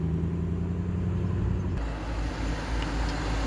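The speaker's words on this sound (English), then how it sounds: "TR8 with that V8 sound." A rare Triumph TR8 sports car with a V8 engine drives past at a British Leyland show day at Gaydon, producing a steady deep rumble with a low, throbbing note that shifts midway as it passes close by.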